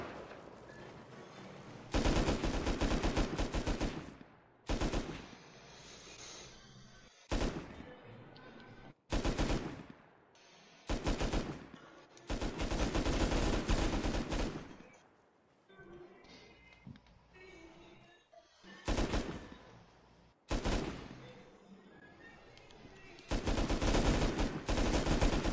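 Bursts of rapid automatic gunfire in a survival PvP game, loud repeated volleys starting and stopping irregularly across the span with short quieter gaps between them.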